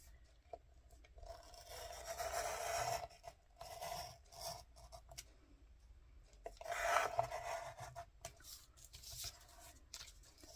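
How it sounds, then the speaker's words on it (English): Quiet, close rasping and scraping from a craft knife drawn along measured lines on card, in several short strokes with brief pauses between them. "I'm going to use my knife on my lines."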